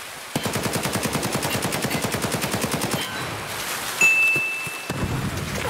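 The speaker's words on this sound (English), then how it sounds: "Is that him shooting?" Video game gunfire: a rapid automatic burst of evenly spaced, loud shots for about three seconds, followed by a few scattered single shots and a brief electronic tone.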